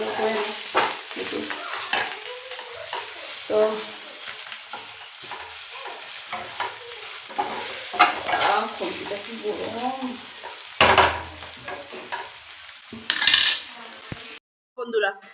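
Food sizzles and fries in a pan while being stirred, with repeated scraping and clinks of a utensil against the pan over a steady crackle, close to the mic; brief sharp knocks near the end.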